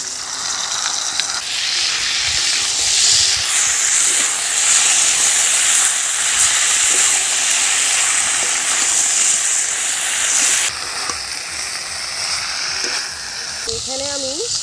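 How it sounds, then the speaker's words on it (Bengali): Mixed vegetables seasoned with turmeric and salt sizzle loudly and steadily in a pan as ground gandal leaves are stirred in, the hiss shifting and dropping slightly near the end. "সবজি ভাজা হয়ে গেছে, এর মধ্যে দিয়ে দিচ্ছি আমি বেটে রাখা গাঁদাল পাতা।"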